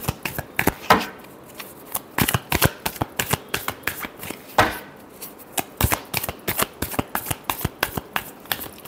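Tarot cards shuffled by hand in a quick, steady run of crisp riffling slaps and flutters, close and fairly loud, with no talking.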